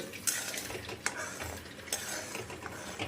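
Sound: stirring melted jaggery in a pan

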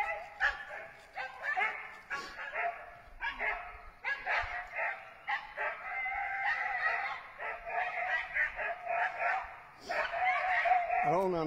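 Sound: big dogs barking

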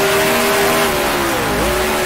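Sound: race car engine downshifting in video game Grand Prix Legends

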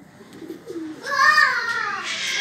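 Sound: pigeons cooing

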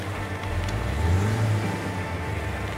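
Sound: car driving on flat tires in the video game Little Colorado

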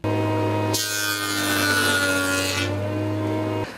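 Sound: sanding fresh pine wood cut

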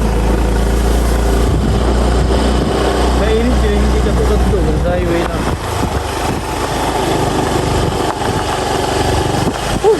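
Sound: motorcycle riding

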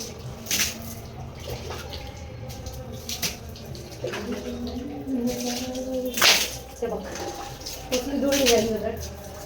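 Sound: water falling down at home

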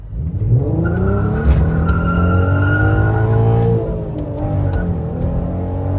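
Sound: VW Golf V GTI with R32 engine swap driving

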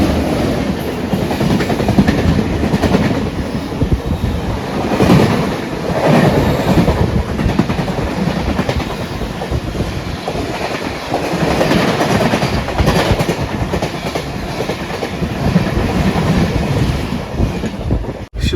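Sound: Khandesh Express train running on the rails

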